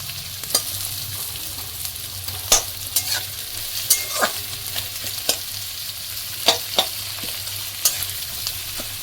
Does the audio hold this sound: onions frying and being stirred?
yes